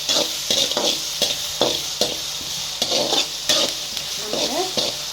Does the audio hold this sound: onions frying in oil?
yes